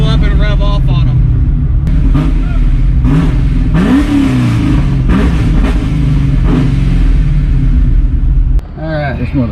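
A car sitting on freshly fitted Toyo Proxes R888R tires revs hard, loud rising and falling engine sweeps repeating close by, with people talking over the noise.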